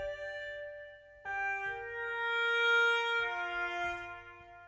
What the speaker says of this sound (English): That one's a traditional Chinese free reed wind instrument